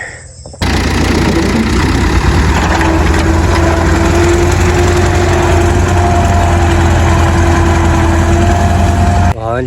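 A tractor engine runs at a steady idle-like throb after a brief start-up, loud and close, with a constant low drone lasting several seconds.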